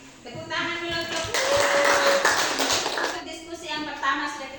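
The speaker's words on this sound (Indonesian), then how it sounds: "Tepuk tangan dulu" Classroom students clapping together in a short burst of applause, moderately loud and steady, with voices mixed in around it.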